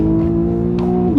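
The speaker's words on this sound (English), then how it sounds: "If I just press that, turn it on, and we give it some throttle, it just sounds absolutely" A Porsche 911 Carrera S with its sport exhaust switched on, heard from inside the cabin as a short, loud, steady engine drone under throttle that rises in pitch at the end.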